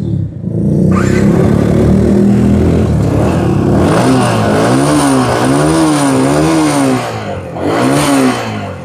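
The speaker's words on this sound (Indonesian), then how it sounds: "untuk knalpotnya ini menggunakan knalpot original punyanya R15 versi" Yamaha Vixion motorcycle with stock R15 version 3 exhaust, loud and close, revving up and down in repeated smooth swells over a steady engine rumble, then a final short rev.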